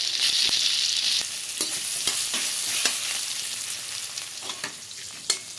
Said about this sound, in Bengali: আলুগুলো লাল লাল করে ভাজা হয়ে গেছে